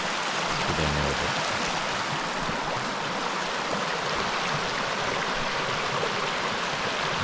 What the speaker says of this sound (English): A good creek.